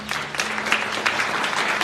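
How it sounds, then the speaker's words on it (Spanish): A church congregation claps in praise at a Resurrection service, sharp overlapping handclaps rising and falling in bursts, fairly loud and close, with no voices over it. "Da un aplauso al Señor."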